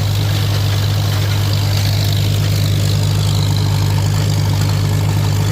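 A Super MTA tractor engine runs steadily with a hay tedder during first-cut orchard grass haying, a loud, constant low droning hum with no breaks, close by and without any talk.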